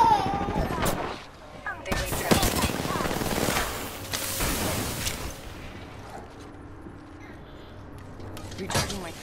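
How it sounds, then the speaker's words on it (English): Wingman pistol shots in Apex Legends: several sharp, separated reports spaced irregularly across the first half, loud and close, with other game noise and a voice talking in between. "I missed all my wingman shots."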